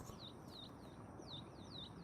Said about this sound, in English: Oh no, I hear birds.